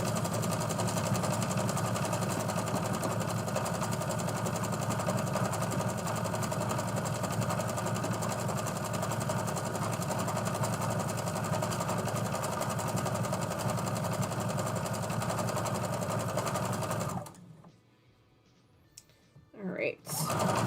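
A sewing machine runs steadily and loudly with a dense mechanical whir for about seventeen seconds, then stops abruptly, leaving near silence with a few faint handling sounds before a brief return.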